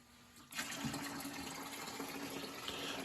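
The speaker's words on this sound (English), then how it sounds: "Let's take some water out of the boiler." Water gushes from a valve on a new Weil McLain steam boiler as it is drained, starting abruptly after a quiet moment and then rushing on steadily and fairly loudly with no talking.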